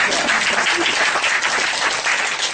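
Audience at an improv show about bullfighting claps steadily and densely, a loud sustained wash of applause with no pauses.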